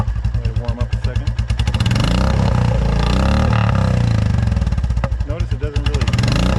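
A Royal Enfield motorcycle with an aftermarket exhaust pipe starts up close by, then idles with a loud, thumping single-cylinder beat and rises in a couple of revs, with someone talking over it.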